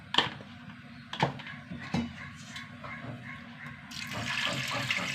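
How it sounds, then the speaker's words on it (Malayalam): Water pouring into a pot of washed toor dal seasoned with salt and turmeric, set to cook in a pressure cooker; a steady close splashing stream that builds toward the end, with a few knocks. "ആവശ്യത്തിന് വെള്ളം ഒഴിച്ച് കൊടുക്കാം."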